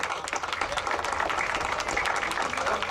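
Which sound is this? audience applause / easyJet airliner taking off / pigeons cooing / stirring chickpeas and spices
audience applause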